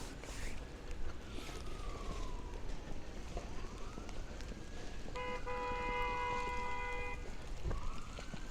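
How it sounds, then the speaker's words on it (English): Police sirens wail along a snowy Brooklyn street in Dyker Heights, rising and falling at middling distance and then turning into a steady horn-like tone over constant traffic hum, with no talk. "Got some sirens."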